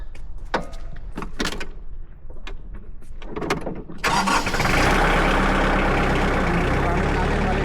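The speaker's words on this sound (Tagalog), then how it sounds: "Gamit natin maliit na traktora." A small tractor engine starts after a few scattered knocks and clatters, then runs as a loud, steady rattling drone close by.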